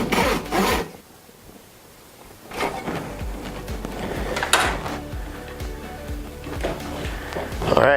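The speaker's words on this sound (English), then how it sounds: "Let's try a different saw. It's another wood cutting saw. It's got a little bit finer teeth." A fine-toothed hand saw cuts through wood in quick back-and-forth rasping strokes, close and steady, with a short pause near the start before the rhythmic sawing resumes.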